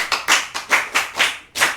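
Children clap for a classmate in quick, bright bursts, about seven sharp claps in under two seconds, close and loud with no talking.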